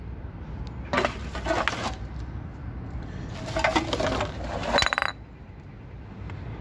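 Glass beer bottles and beer cans clink and rattle in short bursts as street litter is picked up outdoors, with steady background noise between the bursts.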